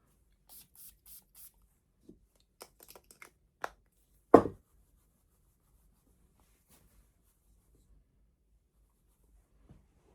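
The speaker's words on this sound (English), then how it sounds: "Let's spray on skin." A few quick hissing spritzes of perfume from a spray nozzle onto skin, short bursts with small clicks between, followed by one louder spray, then quiet.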